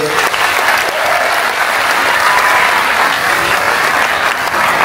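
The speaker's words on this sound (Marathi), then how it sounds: "ह्या सगळ्यांसाठी जोरदार टाळ्या होऊन जाऊ दे" Dense, loud applause from a big live audience, steady clapping sustained throughout with faint crowd murmur underneath.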